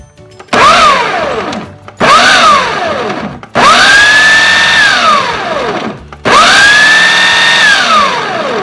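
A Ninja blender chops fresh herbs and garlic in four loud pulses. Each burst whines up and cuts off abruptly, with short pauses between them. The last two bursts run longer with a rising, steady motor pitch.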